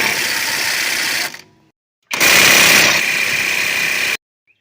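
Two bursts from a Kobalt cordless impact wrench on a 4 amp hour battery, loosening fasteners on a rusty 2004 Toyota Sienna front knuckle: a loud whirring hammer run of about a second, a pause, then a longer two-second burst, with no voices.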